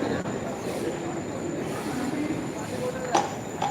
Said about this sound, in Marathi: ट्रेन बघा तुम्ही